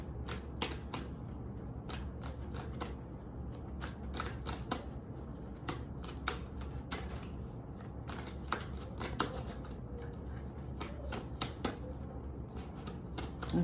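Tarot cards are shuffled by hand, a close, continuous crisp riffling and slapping with quick clicks and snaps, steady throughout with no talking.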